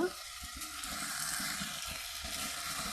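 A Bengali lote fish chorchori curry, oil separating at the edges, gives a soft, even sizzle in the pan with a few low knocks of stirring underneath and no voices.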